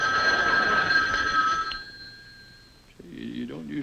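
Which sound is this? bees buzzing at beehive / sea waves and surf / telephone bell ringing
telephone bell ringing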